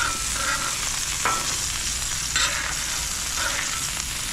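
Salmon frying in oil on a Blackstone griddle, a constant nearby sizzle with a few short scrapes and sharper crackles, no talking over it.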